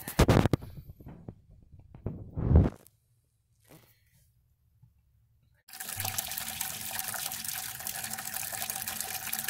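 Rainwater pouring into a washing machine drum, a few sloshing bursts followed by quiet, then a steady continuous rush of filling water that runs to the end.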